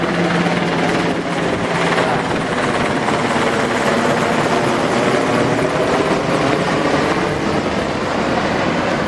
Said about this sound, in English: It's a Coast Guard helicopter.